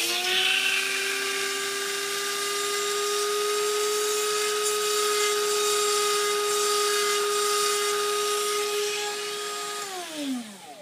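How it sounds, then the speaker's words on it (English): A Dremel rotary tool grinds a small Kadee On3 model coupler box with a steady high whine, close and loud. It holds for about ten seconds, then the pitch falls as the motor spins down. "it looks like I have to go just a pinch more with my Dremel"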